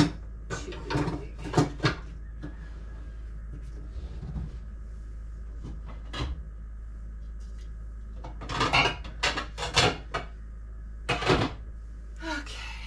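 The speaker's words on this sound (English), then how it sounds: "Let's put a lid on that so it'll boil faster." Metal pot lids and cookware clatter and clank in a kitchen while lasagna is cooked, in several sharp bursts separated by quieter gaps over a low steady hum.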